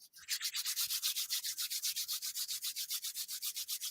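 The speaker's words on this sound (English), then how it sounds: "We're gonna rub our hands again." Palms rubbing briskly together close up, a rapid rhythmic series of dry swishing strokes repeating steadily for about four seconds in otherwise quiet surroundings.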